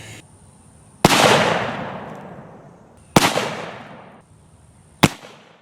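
Three black powder shots from a Pietta 1851 Navy .44 revolver loaded with about 37 grains, each one a sharp, loud close boom with a long rolling decay, spaced roughly two seconds apart outdoors.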